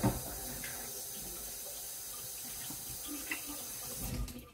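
Running water from a tap rinses a plastic grinder part of a Nama J3 cold press juicer at a sink, a steady close hiss and splash with brief clatters, no talking.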